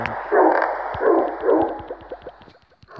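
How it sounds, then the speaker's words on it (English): Short repeated dog barks from the Crossy Road video game, several yips in a quick run, fairly loud and close, with game sounds clicking beneath them. "Love the barking."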